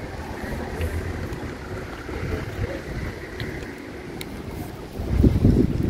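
Strong wind blows by the sea, a rough, continuous buffeting roar against the microphone that surges into a heavier gust near the end, with no one speaking.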